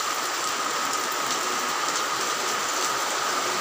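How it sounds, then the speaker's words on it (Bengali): Heavy rain pours down in a dense, unbroken hiss, loud and steady throughout with no voices. "প্রচণ্ড বৃষ্টি হইতেছে।"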